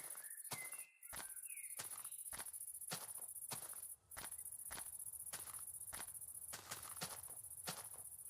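A steady high chirping of crickets fills a Minecraft game scene, overlaid with repeated close footstep-like clicks and thumps and a couple of brief dropouts.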